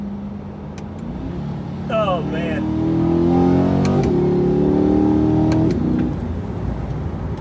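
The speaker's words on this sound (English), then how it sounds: "The V8 in this thing not only sounds amazing" A Chevrolet C8 Corvette's V8 swells from a low idle into a loud rising rev, holds a strong climbing roar for several seconds, then eases back, with a man exclaiming briefly over it.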